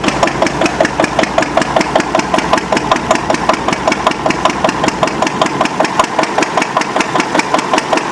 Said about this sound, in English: so the generator's working